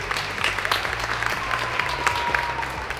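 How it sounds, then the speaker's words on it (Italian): Applause from an audience at a sustainability event, steady clapping filling the room at moderate volume, with a low hum underneath and no talk over it. "Un applauso Angelo e alla JBC"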